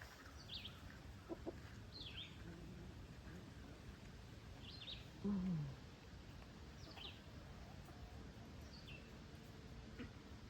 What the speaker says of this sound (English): the chickens must have heard that we were around and came out to visit